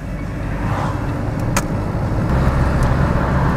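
Interior of a car cruising as the driver clutches and shifts from third to fourth gear, a steady engine and road drone with a faint click partway through and a slight drop in engine tone afterward.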